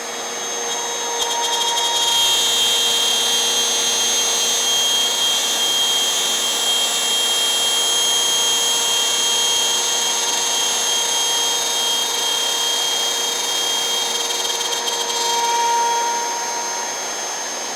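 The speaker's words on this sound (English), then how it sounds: "allows you to get perfect straight cuts with the router" A wood router runs continuously while cutting straight lines in wood on a bench, a loud steady high-pitched whine that holds for the whole stretch, with no talking.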